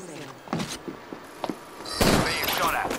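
Gunfire strikes a player's shielded character in a shooter game, a few sharp thuds and impacts scattered early, then a louder burst of hits and rattling near the end, with game voice lines mixed in.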